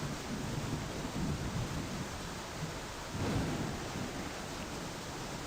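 Thunder from a lightning strike in the Tornado Research & Rescue video game rumbles low and broad, with a swelling roll midway, under a steady wash of rain-like noise and no talking.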